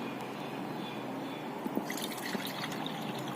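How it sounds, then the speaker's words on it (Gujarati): Cold water pours into a glass at home while a ginger-lemon sharbat is being made, giving a steady close liquid rush that brightens into trickles and drips toward the end, with no voices. "સૌ પ્રથમ આપણે 1 ગ્લાસ ઠંડુ પાણી લઈશું"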